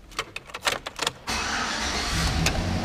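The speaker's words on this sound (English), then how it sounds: "Truck fires right up." A Chevrolet Silverado pickup truck engine cranks in several short bursts, then catches and settles into a steady, loud idle that runs to the end.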